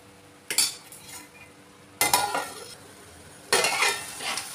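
Drumstick and egg curry with tomatoes stirred in a pan, three separate scraping, clattering strokes of a utensil against the pan, each with a faint sizzle behind it.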